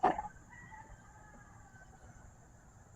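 A single rooster crows faintly in the distance, a brief call at the start that fades into a quiet background with a steady high tone.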